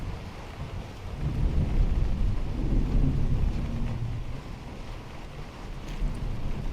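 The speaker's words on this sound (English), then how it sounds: "you could barely hear the rain" Steady rain hisses throughout with low rumbling thunder rolling in the background in the video game Skyrim, no voices present.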